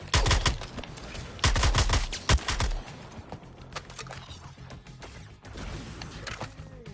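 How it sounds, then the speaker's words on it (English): Rapid bursts of gunfire from the Suicide Squad Kill the Justice League game ring out loud in clustered volleys, shots fired through a barrier, then thinning into scattered mechanical clicks and a quieter stretch. "Obviously, they're shooting through that barrier."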